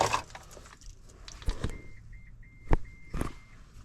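A 2024 Cadillac LYRIQ with a faulty power liftgate that will not open gives a short run of faint, evenly spaced electronic beeps, set among a few sharp clicks and jangles nearby.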